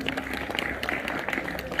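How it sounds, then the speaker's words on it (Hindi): A school crowd claps for Mangeram ji at a Republic Day function, a steady dense patter of many hands sustained throughout, fairly close and moderately loud with a faint murmur of voices beneath. "तालियां मांगेराम जी के लिए।"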